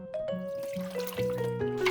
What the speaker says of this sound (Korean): 고기가 너무 뭉쳐 있지 않도록 손으로 충분히 헹궈 주신 후에 물을 받아 2시간 정도 핏물을 빼주시면